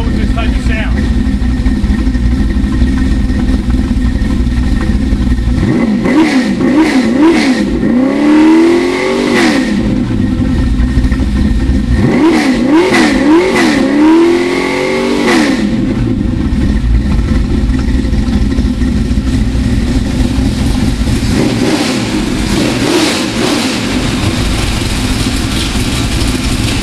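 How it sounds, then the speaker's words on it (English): A 1978 Corvette V8 engine rumbles at a steady idle, then is revved hard to high RPM in several sharp climbs that fall back, close and loud throughout. "This motor does make some nice power, but to bring it up on some RPM sounds tremendous."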